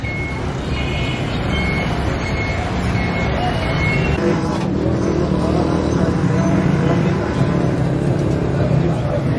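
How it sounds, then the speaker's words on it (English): Busy street traffic in Old Anarkali, Lahore, a dense continuous roar of engines with horns and reversing beeps cutting through, close and loud, with voices mixed into the din. "Old ANARKALI, the traffic right next to us."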